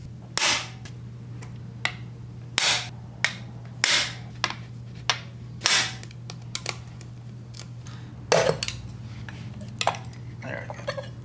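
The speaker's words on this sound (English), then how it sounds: "You're gonna need to use a impact screwdriver for this." Impact screwdriver struck with a hammer to loosen the separator plate screws during an engine teardown, several sharp metallic bangs spaced a second or two apart, close and loud.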